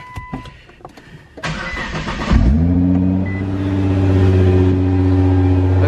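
Nissan GT-R R35 fitted with an Armytrix straight-pipe exhaust fires up after a few faint clicks, catching with a sharp loud bark and then settling into a steady, deep, rumbling idle close by.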